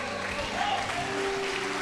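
A church congregation stands and applauds, a dense, steady roar of clapping filling the room, with voices mixed in underneath.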